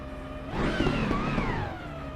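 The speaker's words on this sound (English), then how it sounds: "because cars are loud" Racing car engine in a racing video game, a steady mid-level whine that rises and swells briefly before settling, with no talk over it.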